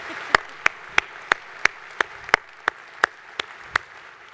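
Audience at an Air Force Association air, space and cyber conference claps in a slow, even rhythm, about a dozen crisp, evenly spaced claps standing out clearly over a quiet room.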